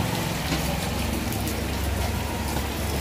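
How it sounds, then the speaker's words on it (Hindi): Heavy rain pouring down steadily in Mumbai, a dense continuous hiss of drops on surfaces close by, with a low rumble of traffic underneath and no clear pauses. "यहाँ पर बारिश बहुत तेज हो रही है।"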